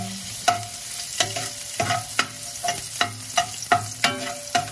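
Ground chicken sizzles in a pan while a spoon scrapes and stirs in a steady rhythm, about ten sharp clinks over the constant frying hiss.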